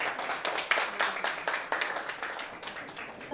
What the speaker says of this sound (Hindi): पहले तो सब अपने लिए जोरदार तालियां बजाएंगे।